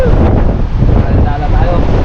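Strong wind buffets the microphone on a small boat at sea, a loud, steady roar with gusty surges that fills the whole stretch.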